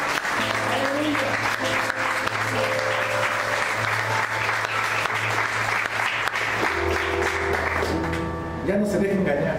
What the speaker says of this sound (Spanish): Denle ofrenda de palmas.